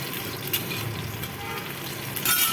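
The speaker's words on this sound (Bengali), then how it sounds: "আমি এখন মিষ্টা ভাজছি" Food frying in a pan for a vegetarian dish, a continuous close sizzle with a few brief spatters and utensil taps.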